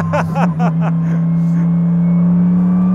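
A Mercedes-AMG GT3 race car on a track runs at full throttle, its engine a loud, steady droning roar that holds throughout, with a man's brief spoken instructions at the start.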